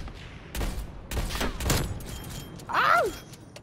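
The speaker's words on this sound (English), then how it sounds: "I just kept shooting" Gunfire from the Call of Duty Black Ops Cold War video game on the Nuketown map, a few short bursts of shots in quick succession, with a brief mechanical clatter near the end.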